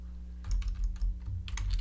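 Close keyboard typing on a computer, a few quick clusters of crisp key taps over a low steady hum.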